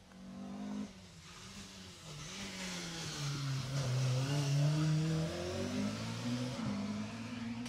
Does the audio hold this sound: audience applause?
no